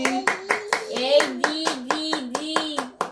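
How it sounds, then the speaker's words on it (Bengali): Sharp hand claps from a baby repeat in a quick, uneven rhythm while someone speaks continuously over them, close by. "হাততালি কি সুন্দর করেছে"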